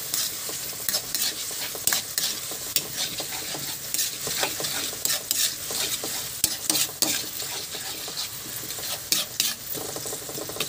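Onions sautéing in a hot pan, a steady close sizzle broken by frequent scraping and clacking stirs throughout.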